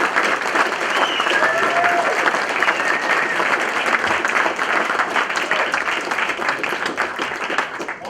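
A jazz club audience applauds a musician at a live trio performance, with steady, dense clapping that holds for the whole stretch at moderate loudness.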